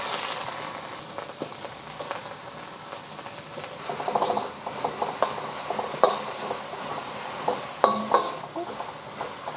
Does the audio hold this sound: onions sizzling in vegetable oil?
yes